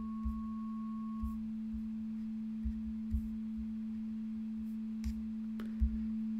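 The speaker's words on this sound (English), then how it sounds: "we're just left with a single sine wave, one pure tone." A single pure sine tone from an additive synth holds steady and unbroken at moderate level throughout, with a second higher tone dropping out early and faint clicks scattered underneath.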